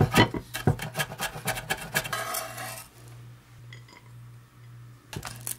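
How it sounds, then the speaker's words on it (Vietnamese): Knife chopping scallion heads on a cutting board, with rapid close taps and scraping for the first few seconds, then a quieter stretch over a low steady hum, with a final couple of knocks. "Hành lá thì mình băm nhuyễn cái đầu hành."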